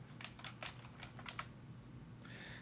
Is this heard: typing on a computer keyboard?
yes